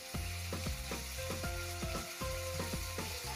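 Ingredients for pekasam fish being sautéed in a pan: a steady sizzle broken by rhythmic scraping stir strokes roughly every quarter second, close up and alone.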